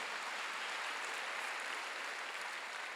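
A church congregation at a Wednesday worship service applauds, a soft, even wash of clapping heard from a distance without a break.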